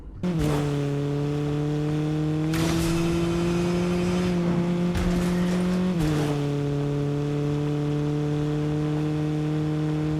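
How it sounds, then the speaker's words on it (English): A steady Fortnite hatchback car engine drone holds a constant pitch, shifting slightly up then back down, with a thin, buzzy synthetic tone throughout. "It sounds like a cheap hatchback too."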